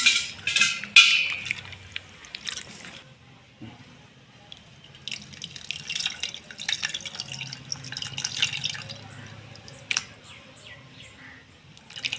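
Soaked tamarind squeezed by hand in water, giving soft wet squelches and splashes in irregular bursts, close and fairly quiet, with brief pauses between handfuls.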